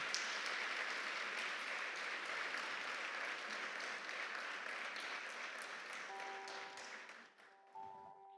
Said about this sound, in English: Can I please request one more round of applause for that powerful, powerful performance?